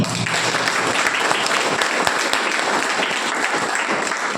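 Sustained audience applause at a Keva business-plan seminar, dense clapping from a large crowd filling the whole stretch at steady loudness with no talk.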